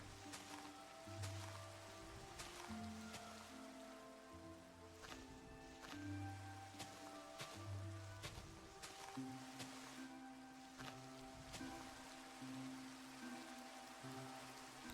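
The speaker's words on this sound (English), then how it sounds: "Oh, it's raining now." Steady rainfall in the Minecraft video game, a continuous soft hiss of drops with no talking.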